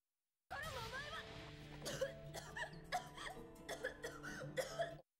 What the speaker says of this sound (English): And then she stops and begins coughing.